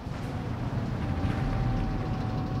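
A Sturmgeschütz assault gun engine in Company of Heroes 3, giving a steady low rumbling drone with a faint whine, continuous and moderately loud, with no distinct revving peaks.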